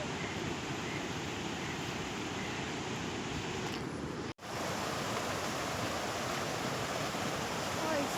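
River in Nepal on the way to the Mailung waterfall, rushing with a steady, dense broadband roar from start to end, broken only by one very brief dropout partway through.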